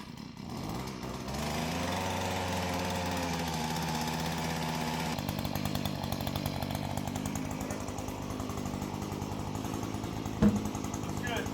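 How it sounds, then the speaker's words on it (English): A gas-powered auger bores post holes in dirt for a workshop exterior, its engine droning loudly and steadily throughout, with a brief sharp knock near the end. "we used an auger to make our post holes"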